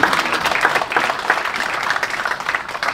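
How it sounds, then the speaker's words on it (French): Audience applause at a European maritime academies colloquium on the blue economy, steady dense clapping from a hall crowd that holds at an even level throughout. "on peut l'applaudir."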